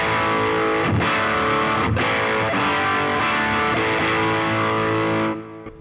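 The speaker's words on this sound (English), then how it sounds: "we've got this really sort of thick overdrive distortion sort of tone." A thick, heavily overdriven electric guitar played through a Boss Angry Driver pedal on its Angry Charlie side sustains loud chords with a couple of brief breaks, then cuts off at the end.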